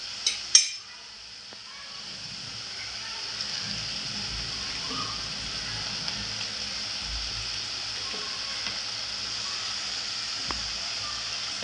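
Brinjals (eggplant) dropped into a hot pan of cooked onion-tomato masala: a sharp clatter at the start, then a steady soft sizzle and hiss that continues evenly, fairly quiet.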